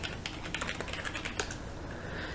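Rapid clicks from a computer keyboard as a command is entered into a Space Quest text parser, a close, quick run of keystrokes that thins out toward the end.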